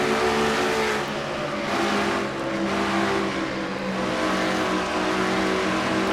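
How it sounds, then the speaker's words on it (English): A NASCAR-style stock car races at Dover in a video game: the engine drones steadily and close, with throttle revs rising and easing through the turns and a faint tire squeal beneath. "You heard how Matt having to play with the throttle just a little bit, going through turns 3 and 4 here"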